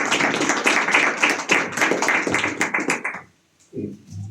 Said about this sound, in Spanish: Entonces recibimos con aplausos al doctor César.